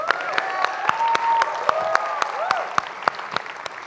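Scattered claps ring out in an uneven rhythm while a few voices whoop and call in the background.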